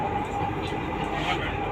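A Delhi metro train rumbles steadily, a continuous low roar of the carriage with a faint whine on top and no clear breaks.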